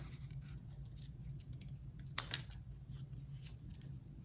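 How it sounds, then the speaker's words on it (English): A brief snip of small scissors cutting through stiff sparkle paper, a single crisp cut standing out against a low steady background hum. "this sparkle paper is a little hard to cut, as you can see with my little scissors here"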